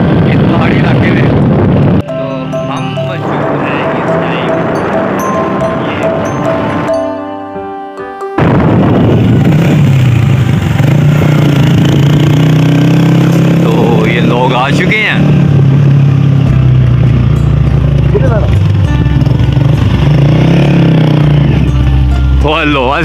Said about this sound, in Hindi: बाइक पे आ रहे हैं